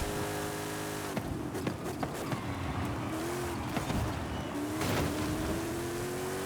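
Race car engine in Forza Horizon 5 revving and shifting through gears with rising whines, continuous and loud, with tire squeal and skidding as the car understeers.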